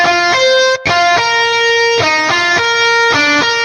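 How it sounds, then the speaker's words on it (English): A guitar-style lead drawn in on the Odin 3 software synth, playing a short stepping melody of sustained, bright, buzzy notes with a brief gap near the start, loud and alone. "So I drew in this guitar lead with the Odin 3."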